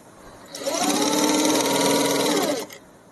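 A sewing machine stitches a kids' lehenga in one continuous run of rapid, even whirring. It starts after a short pause, holds steady and close for about two seconds, then stops.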